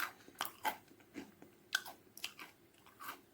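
Crunchy ragi bites snack being chewed close up, with sharp irregular crunches scattered over a few seconds and no talking.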